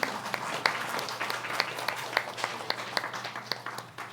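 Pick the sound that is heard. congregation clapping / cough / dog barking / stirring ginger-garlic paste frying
congregation clapping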